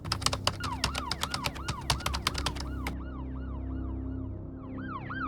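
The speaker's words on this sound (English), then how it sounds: "You should be able to hear the police sirens now." Wailing police sirens rise and fall continuously, overlapping several sweeping tones, with a burst of rapid clicking taps in the first three seconds; a tense emergency call setting, no talk.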